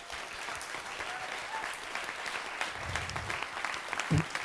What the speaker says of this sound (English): so round of applause for Martin